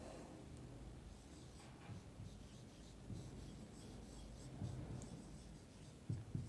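Marker or chalk scratches across a board as a chemistry formula is written out, producing faint, uneven scraping strokes at close range with a few slightly louder taps near the end.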